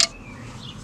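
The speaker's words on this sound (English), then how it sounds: "So just to help me retain this, I'm going to just push the clip back on." A brake caliper retaining clip on a 2007 Vauxhall Astra H 1.3 CDTi is pushed back into place, giving one sharp metallic click at the start, followed by quiet.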